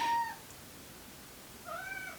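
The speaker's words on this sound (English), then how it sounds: "He's just gonna lie in the middle of the floor and meow at me." A pet cat meows twice, a clear close meow at the start and another after a quiet pause, with no voices.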